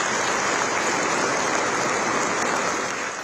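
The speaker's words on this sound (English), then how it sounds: "Applause flooding the Rashtrapati Bhavan." Sustained applause fills the hall at a Rashtrapati Bhavan award ceremony as an Indian Air Force pilot is honoured by the President, a dense, steady wash of clapping without pause or talk.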